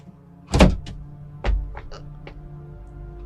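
A door is knocked and its doorknob is handled: a loud close bang and a second heavier thud, followed by several small, sharp metallic clicks and rattles from the knob.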